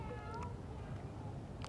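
A cat meows softly a couple of times at some distance, faint over steady low background noise.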